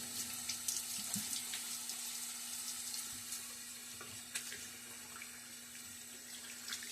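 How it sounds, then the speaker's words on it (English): Water runs steadily into a sink during a wet shave, a soft continuous splashing and trickling with a few louder drips, no voices. "splash of water"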